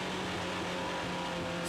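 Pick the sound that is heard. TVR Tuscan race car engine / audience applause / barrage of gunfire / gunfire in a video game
TVR Tuscan race car engine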